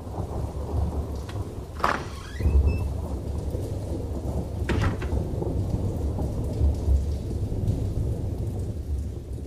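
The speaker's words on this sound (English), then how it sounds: "It was raining when we left the house." Rain falling steadily with a rumbling thunderclap early on and another softer crack later, the downpour a constant hiss throughout, no voices.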